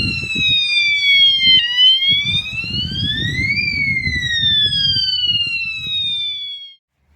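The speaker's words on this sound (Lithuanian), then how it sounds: "Tuoj savo sireną įsijungsiu" A loud electronic siren on a Cube Acid 260 bicycle wails continuously, its pitch sweeping down and up in slow cycles, over rumbling wind and road noise before cutting off abruptly.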